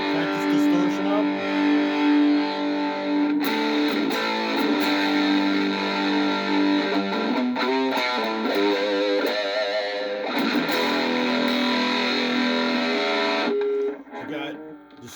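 Thick, heavily overdriven electric guitar, a 335-style copy through an MXR Distortion Plus pedal with distortion cranked up, riffing continuously, with sustained distorted chords and quicker picked passages before cutting out near the end.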